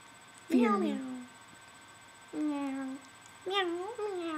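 A child imitates a cat with three drawn-out, whiny meows spaced about a second apart, voiced up close against a quiet background.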